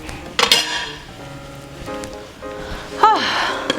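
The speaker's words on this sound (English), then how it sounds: "We're going to drain it into the stand mixer bowl." Hot boiled potatoes being drained into a stand mixer bowl, with close clanks and clinks of a pot against metal over a soft splashing hiss, and a sharp ringing knock near the end.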